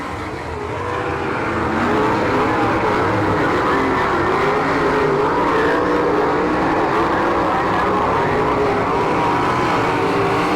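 Race cars roar around a dirt track at Saint Clairsville, Ohio, a steady loud wall of engine noise from several cars together, with slight rises and falls in pitch as they run in a pack.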